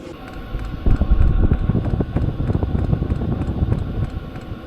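A Mudiro diesel heater blows a strong, steady rush of air through a small workshop, a broad low roar that swells slightly and holds for several seconds with no talking.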